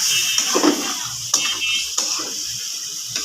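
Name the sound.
curry being stir-fried (kasha) in a pan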